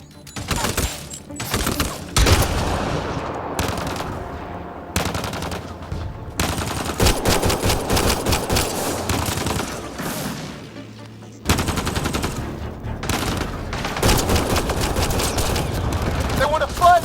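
Heavy gunfire from the Mass Effect Andromeda video game comes in loud, rapid volleys that start and stop abruptly, with a few brief pauses between sustained bursts and speech faintly mixed in.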